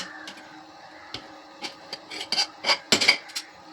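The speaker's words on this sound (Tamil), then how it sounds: "அடி பிடிக்காமல் இருக்கிறதுக்காக சும்மா கிண்டி வச்சுட்டேன்" Egg biryani stirred in a cooking pot, a handful of close clinks and scrapes of a spoon against the pot that grow quicker and louder toward the end.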